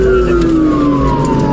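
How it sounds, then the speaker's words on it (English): A police car siren wails loud and near with a falling pitch sweep over engine rumble, switched on at the start of a vehicle pursuit. "Turn my light sirens on."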